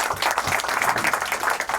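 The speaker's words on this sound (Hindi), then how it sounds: "एक बार गुरु के लिए जोरदार ताली।" An audience at a studio album launch for a music event claps loudly and densely, a short burst of close, sustained applause with no speech over it.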